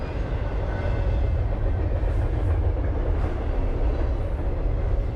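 A train rumbles past steadily with a deep low roar and faint rattling of rail cars, continuous and moderately loud throughout.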